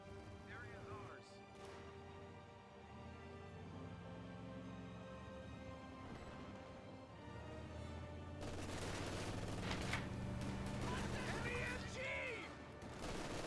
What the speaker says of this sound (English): MG42 gains some great suppression